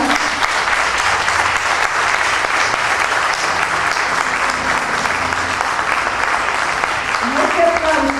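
Sustained audience applause at a talk on creative resistance, a dense steady wash of many hands clapping close and loud throughout, with a voice briefly rising over it near the end.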